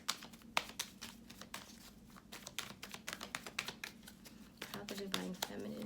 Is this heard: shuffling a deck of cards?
yes